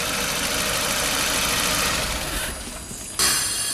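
A car engine idles steadily during a radiator coolant service, a constant mid-range rumble that fades slightly near the end before a brief louder burst.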